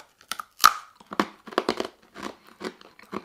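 Someone bites and chews hard, dry, crunchy survival biscuits up close, with a sharp first crack followed by a string of irregular crunching chews and brief pauses.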